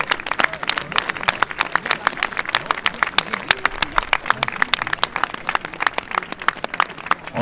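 A crowd applauds steadily for a sailor at a French sailing event, with dense, continuous clapping, and voices faintly audible through it.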